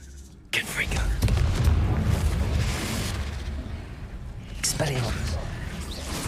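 A Confringo fire spell bursts in Hogwarts Legacy, a sudden loud boom that then rolls on as a rumbling blast under heavy combat noise, with a second sharp burst later on.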